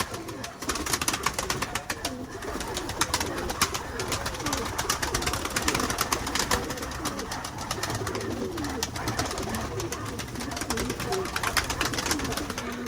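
Pigeons coo continuously and close by after being let out of their coop ahead of its cleaning, many birds calling at once in a dense, steady chorus.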